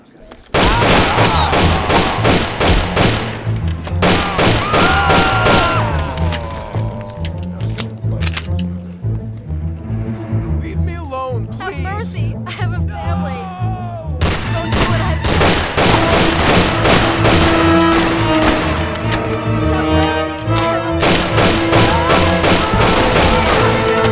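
Dense, loud bursts of rapid gunfire in the video game Mafia: The City of Lost Heaven, volleys of shots repeating almost continuously with a brief lull midway, while shouting voices carry over the shooting.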